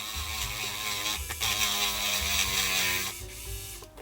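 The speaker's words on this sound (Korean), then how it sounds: "다행히 이 전동공구 팁이 들어가는 위치라 가지고" Small electric power tool smoothing light-cured putty along a seam on a plastic model kit of Trider G7, a close whining motor hum with rough grinding texture, pausing briefly mid-way and near the end.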